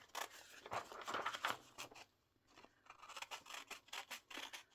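Scissors snipping paper to cut out pieces for a turtle appliqué craft, a close run of quick crisp cuts in two bursts separated by a short pause, with no talking over them.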